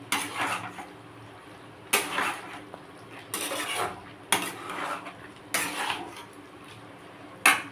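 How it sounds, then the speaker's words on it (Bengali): Jackfruit curry stirred in a pan with ground garam masala, a spoon scraping the metal in repeated bursts about every second or two over a low steady background hiss, close and moderately loud. "গরম মশলা গুঁড়োটা দিয়ে ভালো করে নাড়িয়ে"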